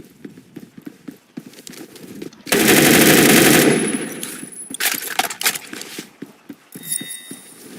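Automatic gunfire in the first-person shooter game Phantom Forces, with scattered single shots and clanks, then a loud sustained burst of rapid fire near the middle before sporadic shots resume; a faint voice is briefly present.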